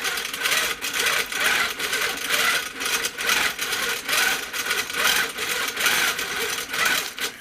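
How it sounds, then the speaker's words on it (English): A sewing machine runs steadily while stitching closely spaced quilting lines, its rapid mechanical chatter continuous and close with slight rhythmic pulsing and no voices. "And what you might notice as I'm stitching is these lines are about 1/4 inch apart."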